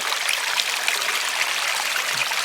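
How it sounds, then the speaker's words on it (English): A small stream flows beside a narrow lakeside mountain trail. The water runs in a steady, close, hissing babble with no pauses, and no voices are heard over it. "Here's another fun little flowing water area."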